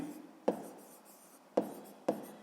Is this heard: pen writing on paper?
yes